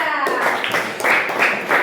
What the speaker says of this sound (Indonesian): sekarang beri tepuk tangan buat kelompok 3